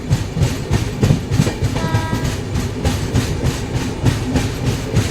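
The 19260 Kochuveli Express runs from Bhavnagar toward Ahmedabad with a loud, steady clickety-clack of wheels over rail joints in a continuous rhythm, heard close with no voices.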